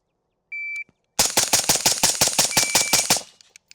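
Suppressed 5.56 rifle fired rapidly to empty a magazine: about a dozen sharp, evenly spaced cracks in a quick burst, preceded by a short electronic beep.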